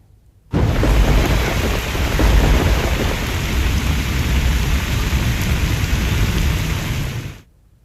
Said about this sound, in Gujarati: અને હવે વાત ભાદરવામાં ભરપૂર વરસાદની।